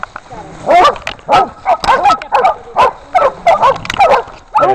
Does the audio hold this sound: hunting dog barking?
yes